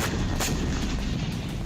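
Explosions from a drone attack on Russian cities, a heavy boom or two with sharp onsets rolling into a sustained dense rumble, loud and distant-sounding, with no speech.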